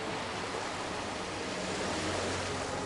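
Rolling waves of the Lotano Sea wash around the maritime city-state of Limsa Lominsa in Final Fantasy XIV. The surf is a soft, steady, unbroken hiss with no voices over it.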